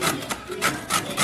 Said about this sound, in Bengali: দেখো আলুটা আর গাজরটা এইভাবে আমি কষে করে নিচ্ছি।